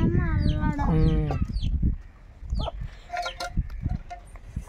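Hens in a home setting cluck and squawk in loud, harmonic bursts over the first two seconds, then call more softly and intermittently while people talk nearby.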